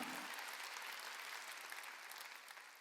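A church congregation applauds during a worship service, a dense, even wash of clapping from many hands that holds steady, then eases slightly toward the end, with no voices over it.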